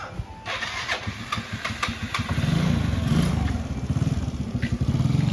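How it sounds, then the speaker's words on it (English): A motorcycle engine with a starter problem cranks with rapid stuttering turns, sputters, then catches into a loud, rough, uneven running rumble nearby. "Sounds like he has a starter issue."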